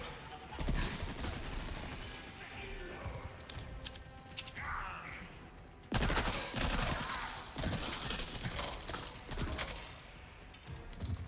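Bursts of TMP submachine-gun fire in Resident Evil 4 Remake, with dense rapid shots and impacts that run nearly throughout and swell sharply around the middle, loud and close with game sounds mixed in.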